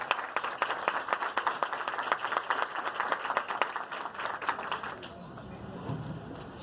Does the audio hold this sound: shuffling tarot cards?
no